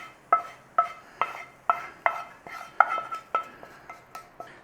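A spoon mixes cooked onions into breadcrumbs in a bowl, about a dozen close, sharp clinks and scrapes in a steady rhythm.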